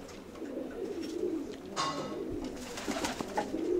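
Pigeons coo softly and repeatedly against a hushed outdoor background, with a few brief rustles in between.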